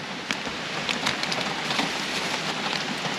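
Torrential rain pours steadily during an Appalachian Trail thru-hike, a dense even hiss of drops drumming on surfaces close by, with no voices.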